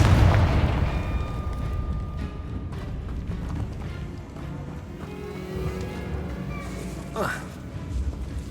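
A Confringo blast spell goes off in the Hogwarts Legacy video game, a booming explosion rumbling loud at the start and then fading into a mid-level crackling roar, with a brief sharp flare near the end.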